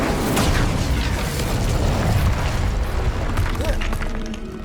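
A fire spell bursts in Hogwarts Legacy as Incendio is cast in combat: a loud, dense roar of flame and blast that fills the whole stretch and fades slightly at the end.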